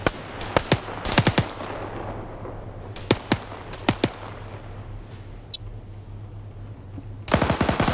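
Video game gunfire aimed at a window, sharp scattered single shots and short bursts spread across the clip, ending in a rapid burst of fire over a low steady hum.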